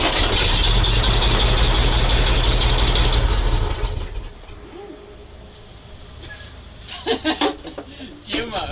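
Diesel engine of a MAZ truck left in storage for 15 years, idling with loud steady rumble for about four seconds, then dropping to a quieter low idle with clanks and handling noises.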